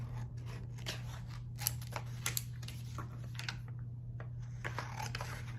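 Scissors snip through brick heat transfer vinyl: a quiet run of crisp, irregular cutting clicks and rasps close by, over a low steady hum, with no talking.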